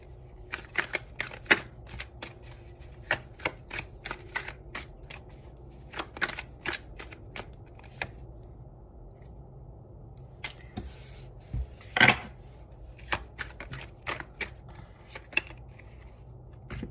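Tarot cards are shuffled in quick, crisp bursts of riffling and flicking, close by, with short pauses between runs and no talk.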